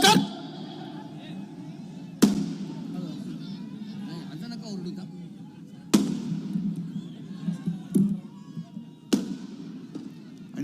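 Firecrackers burst at a political rally: about five sharp, loud bangs at irregular intervals, each trailing off quickly over a steady crowd murmur with people talking.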